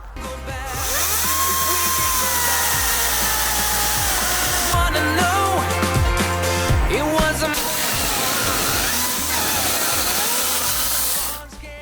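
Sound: TEKHMANN cordless chainsaw cutting dry wood on two batteries

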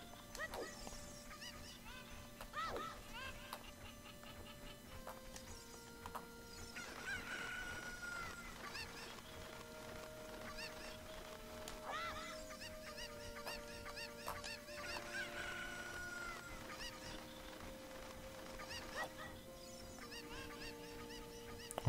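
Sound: chickens clucking in Zelda Ocarina of Time video game

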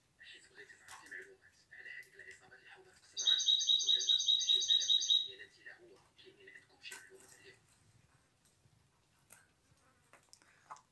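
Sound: goldfinch singing in cage

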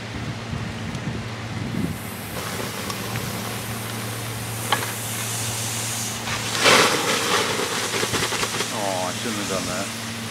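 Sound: water sprayed on molten thermite sizzling on a urinal

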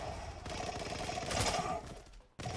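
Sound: gunfire in the video game Zula

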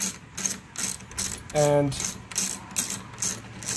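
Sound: socket ratchet tightening on Glock sight pusher

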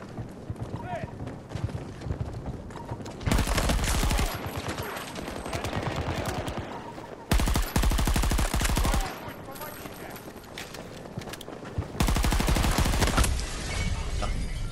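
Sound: gunfire in the video game Battlefield 2042

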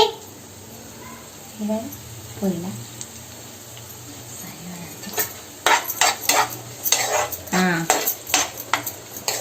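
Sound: samosas frying

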